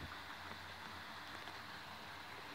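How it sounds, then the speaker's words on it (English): Heavy rain falling at night, a steady, dense broadband hiss of downpour that holds constant throughout without pauses, fairly faint and with no voices over it. "Yeah, heavy rain."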